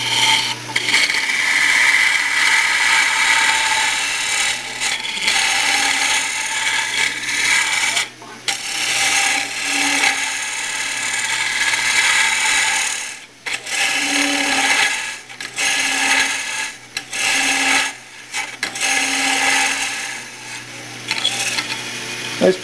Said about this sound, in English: I'm going to show it to you actually feeding it in with the lathe running